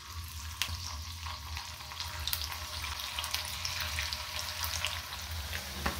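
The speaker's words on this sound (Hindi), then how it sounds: "अब घी गर्म हो गया है, अब इसमें साबूदाना के फ्रेंच फ्राइज को डालते हैं।" Sabudana French fries sizzle steadily in hot ghee in a home kitchen, a continuous moderate frying hiss with small crackles and no talk.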